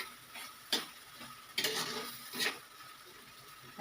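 Spatula stirring a vegetarian Malabar spinach chorchori frying in a pan, with a soft sizzle underneath and a few sharp scraping clicks of the utensil against the metal, fairly quiet and close.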